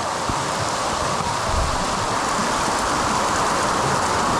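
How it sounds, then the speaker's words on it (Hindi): Heavy rain pours steadily on a village at the edge of a dark forest, a dense, even hiss with no breaks and no voices. "तेज बारिश स्टार्ट हो गया"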